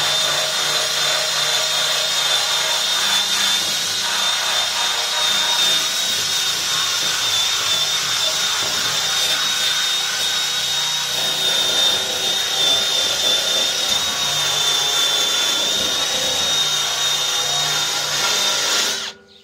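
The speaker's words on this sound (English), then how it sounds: "I'm just polishing all that back." A power tool runs loudly and continuously for about twenty seconds while it polishes back grime and rust on a Toyota Corolla 2E fuel tank, giving a steady grinding whir with a high tone. It stops abruptly at the end.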